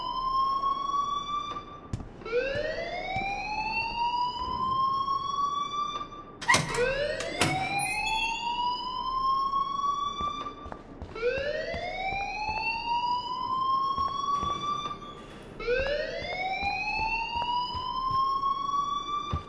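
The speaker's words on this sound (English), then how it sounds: "please turn off that alarm since that's your job" In the video game Life is Strange, a fire alarm sounds as a rising electronic whoop, repeating four times at a steady pace. It is loud and fills the space with a faint background hum.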